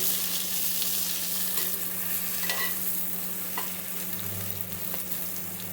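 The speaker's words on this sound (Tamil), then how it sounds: "போட்டு இப்போ நல்லா வதக்குங்க." Garlic and brinjal sauté in oil for a South Indian kara kulambu, a constant close sizzle with soft stirring scrapes over a low steady hum, no voices.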